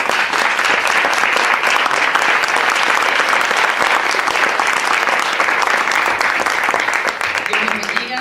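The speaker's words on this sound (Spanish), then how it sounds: "le invito a que la recibamos con un fuerte aplauso" A crowd at a church women's workshop, EDIFICADORAS 2018, gives a speaker a strong welcoming round of applause. It is loud, dense and continuous for about eight seconds and fades slightly at the very end.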